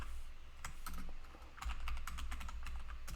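Computer keyboard typing while writing code for a button input, a fast uneven run of crisp key clicks over a steady low background hum, close-up and fairly quiet with no speech.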